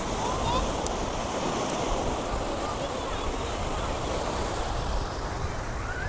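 Sea waves wash continuously onto a beach, a steady surf hiss mixed with wind buffeting the microphone and no clear speech.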